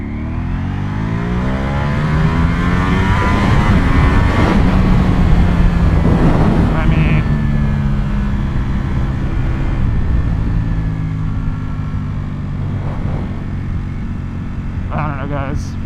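A 2022 Ducati Panigale V4S sport motorcycle accelerating hard in first gear on wet streets, its engine note climbing in pitch in a loud, continuous rising sweep with wind roar and a brief shift near the end.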